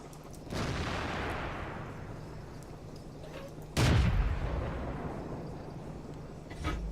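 Tank cannon fire in the video game World of Tanks, with two heavy booming shots each followed by a long rumbling decay, the second one louder and closer.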